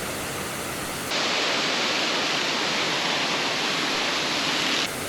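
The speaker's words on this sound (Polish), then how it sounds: "Almibach to górski potok znany z 4 wodospadów, który przecina 350-metrową skalną ścianę." The Almibach, an alpine mountain stream with waterfalls cutting through a tall rock wall, heard as a loud, steady, broadband rush of falling water with no talk over it.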